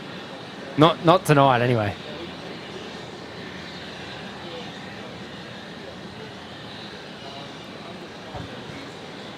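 A continuous low roar of aircraft engines at Brisbane Airport runs steadily throughout, with a brief spoken phrase near the start over the distant, even drone.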